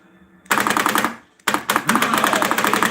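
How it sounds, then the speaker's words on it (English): Rapid bursts of mechanical gunfire-like clatter from the simulated recoil of a plug-and-play arcade light gun in a zombie shooter, two loud volleys separated by a short pause. "As you can hear, it's simulated recoil."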